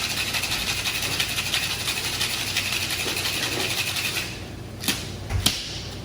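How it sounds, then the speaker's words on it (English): A cocktail is hard-shaken with ice in a shaker, giving a rapid, steady rattling churn for about four seconds before it stops, followed by a couple of sharp clinks. "For your shake, we're gonna do a hard shake."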